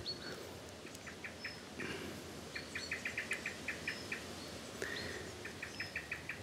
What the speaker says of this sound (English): that's a blackbird in the background, just clucking away.